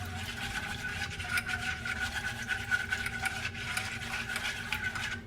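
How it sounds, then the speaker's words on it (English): Pumpkin spice latte ingredients with vanilla being whisked together in a pot, with a quick, steady scraping and rubbing rhythm that is close and fairly quiet. "I'm just gonna whisk it all together"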